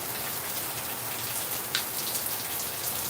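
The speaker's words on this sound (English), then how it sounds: "the sun is shining and it's raining" Steady rain pours down in Florida while the sun shines, a dense even hiss of drops hitting surfaces that holds constant throughout, with no voices.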